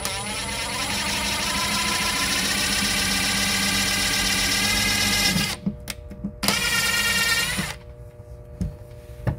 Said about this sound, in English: Again, this is just a small diameter drill bit.